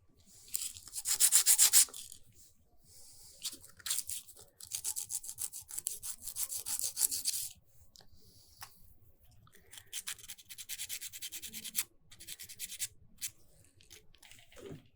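Hand filing on a small alabaster star pendant, with bursts of close, scratchy rasping strokes separated by short pauses, some passes rapid and dense, others lighter.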